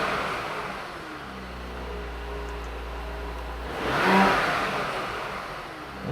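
Car engine after an APR performance tune, revving from a steady idle into one brief, moderately loud surge near the end, recorded close by with no talk.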